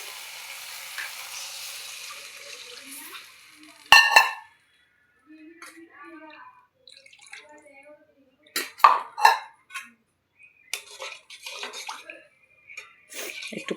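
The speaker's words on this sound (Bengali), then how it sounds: "তো আমি এতে এবার দিয়ে দেবো জল।" Water goes into fried, oil-releasing masala for a homestyle Bengali rohu fish curry with no potatoes, a low hissing pour followed by scattered sharp clanks of utensils against the pan.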